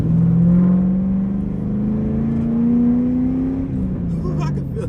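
A 2007 Ford Mustang GT V8 with a Bama SCT tune pulls under light throttle from inside the car, its steady engine drone rising slowly in pitch and then easing off, loud and continuous.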